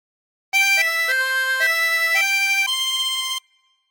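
A chromatic harmonica plays a short phrase of the Star Spangled Banner an octave higher, a string of clear, sustained reedy notes stepping up and down without breaks, alone and then stopping abruptly.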